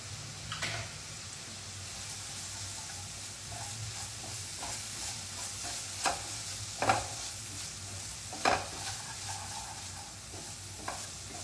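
Ginger garlic paste fries in a pan as part of a home-style dal, giving a soft, steady sizzle broken by a few sharper scrapes of stirring, fairly quiet, with no talking.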